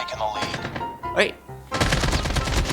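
AK-47 gunfire in Call of Duty Mobile, with a short burst of shots, a brief pause, then a sustained loud automatic stream of rapid shots up close, while someone talks briefly in between.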